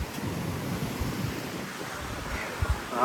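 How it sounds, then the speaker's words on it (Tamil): Strong sea waves break at Gandhi Beach, Pondicherry, a continuous surf rush mixed with heavy wind buffeting the microphone, with a couple of louder thumps near the end. "பயங்கரமாக அலை அடிக்குதுங்க."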